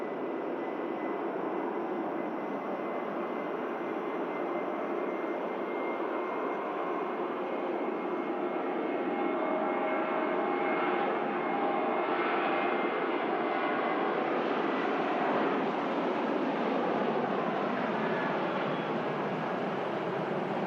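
A Ryanair jet airliner climbing out after takeoff at Manchester Airport on a frosty morning, its engine roar steady and broadband throughout, swelling slightly toward the end as it passes, with no voices.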